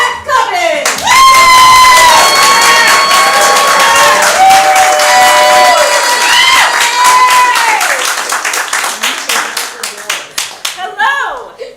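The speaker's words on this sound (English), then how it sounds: "put your hands together for this evening's rep for your Theatresports semi-finals, Miss Kat Cobbin." A theatre audience at a Theatresports improv semi-final bursts into loud applause, whoops and cheers for the host, sustained for several seconds before thinning into scattered claps.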